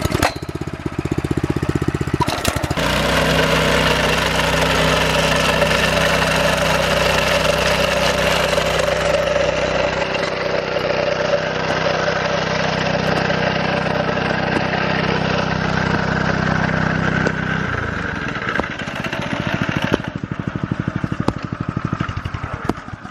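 Engine-powered turf cutter slicing grass sod into four-square-foot sheets, a loud steady mechanical drone with rattling blade noise that runs for most of the clip, then drops away near the end, leaving quieter rustle.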